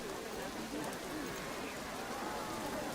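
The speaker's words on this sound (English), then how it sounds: "is this like Planet Zoo where if you have a cover, the rain won't go through?" Rain falls steadily in the video game Planet Coaster 2, a soft, even hiss of drops across the whole moment, with a faint bird-like coo in the background.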